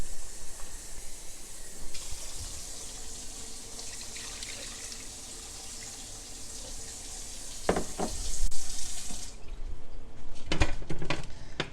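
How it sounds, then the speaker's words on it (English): Water pours steadily from a tap into a pot, a constant hissing stream, followed by clattering and knocks of the pot being handled. "I'm going to add a little bit more water to this."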